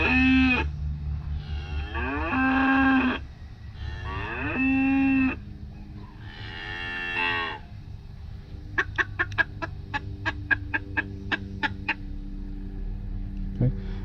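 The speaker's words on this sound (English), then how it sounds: "next we'd have barnyard sounds of various types." Barnyard sound effects played from a sound board for a garden railroad: a few loud drawn-out cattle moos, followed by a rapid run of clucking chicken calls, fairly close and clear.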